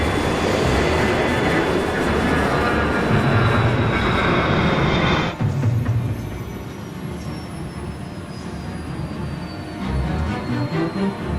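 An Airbus airliner on approach flies dangerously low over the ground, a loud, sustained broadband engine roar that drops abruptly in level partway through and then continues as a quieter rumble.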